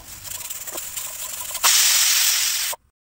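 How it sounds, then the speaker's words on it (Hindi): A pressure cooker on a medium gas flame vents steam while cooking healthy biryani, a rough hiss building and then bursting into a loud, steady whistling rush before cutting off abruptly. "कुकर का लीड को कर देना है बंद और साथ ही लगा देना है इसमें सीटी और गैस का फ्लेम कर देना है मीडियम और दो सीटी आने तक इंतज़ार करना है"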